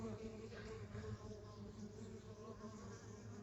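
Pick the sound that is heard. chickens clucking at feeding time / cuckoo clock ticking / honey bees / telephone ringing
honey bees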